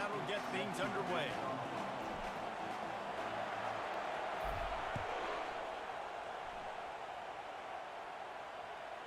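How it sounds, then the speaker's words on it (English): A stadium crowd in a college football video game roars as a steady, dense wash of noise through the whole stretch, with a few thuds early on and a commentator's voice over it. "This crowd trying to show them what it's going to be like all day in this house."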